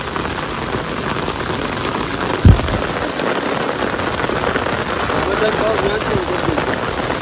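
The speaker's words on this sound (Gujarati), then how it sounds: "વરસાદ ચાલુ જ છે ધોમ" Heavy rain pours steadily over an open farm field, a dense broadband hiss throughout with one brief thump near the middle, while someone talks over it.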